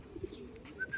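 Free-flying kalapati pigeons coo briefly outdoors by a roadside, a short, faint low call with a few soft chirps around it.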